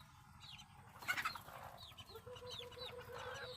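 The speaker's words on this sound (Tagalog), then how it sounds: "Tignan natin yung mga manok." Native chickens clucking softly at a morning feeding, several short clucks and chirps from nearby birds over low background noise, no one speaking.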